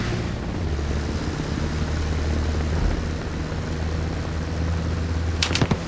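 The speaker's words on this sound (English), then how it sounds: "Here comes the enemy choppers." Enemy helicopters approaching in a video game, a steady loud rotor and engine drone that fills the scene, ending with a few sharp impacts and no speech.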